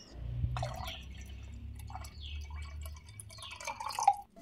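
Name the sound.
water being poured for making masala chaas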